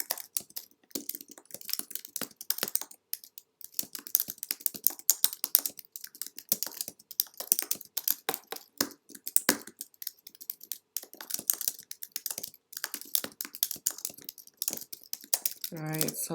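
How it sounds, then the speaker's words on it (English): Steady, fast clicking of a computer keyboard as someone types text for a blog post, quiet and close, with short pauses between bursts of keystrokes. "Then I'll start typing"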